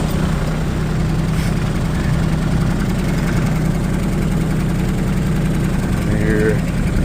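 A Kioti tractor's diesel engine idles steadily and close by, a constant low rumble throughout with no clear revving.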